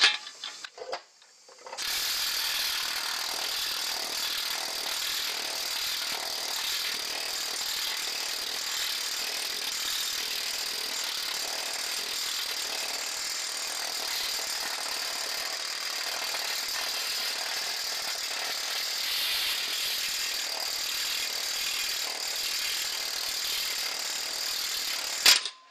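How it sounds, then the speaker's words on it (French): A pneumatic planishing hammer works sheet metal for a rebuilt rear corner of a Renault Estafette van. After a short quiet start it runs as a steady, dense, fast mechanical hammering, close and continuous for the rest of the clip. "il y a le marteau à planer pneumatique"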